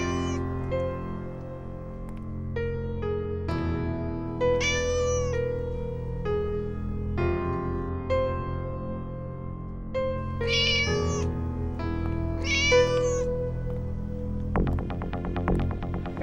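A cat meows repeatedly in drawn-out, wavering cries with short pauses between them, fairly close, with a faint background hum.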